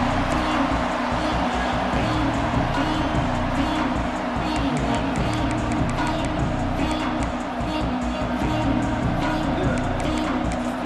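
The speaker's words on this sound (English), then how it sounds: "This crowd ready to make its presence known." A stadium crowd in the College Football 26 video game roars steadily in a broad, continuous wash, with a commentator talking over it throughout.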